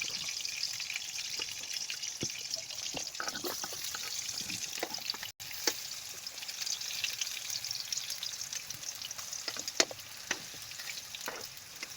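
Garlic and onion frying in a pan for chop suey, a steady close sizzle with scattered crackles and pops running throughout, plus a few soft stirring clinks and no talk.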